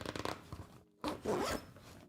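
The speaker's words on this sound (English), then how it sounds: "Zippers could be a little more sturdy. It catches at the corner because it is a small zipper." The small zipper on a DoorDash delivery bag is pulled open close up, first in a run of short ratcheting bursts, then after a brief pause in a longer, louder rasping pull. No one talks.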